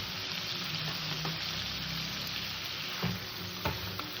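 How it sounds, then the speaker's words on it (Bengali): Soaked potato and pointed gourd added to cooked spice paste and frying in oil, a dense continuous sizzle close by with a couple of louder stirring bumps near the end, no voices. "এবার ভিজে রাখা সবজিটা দিয়ে দিলাম"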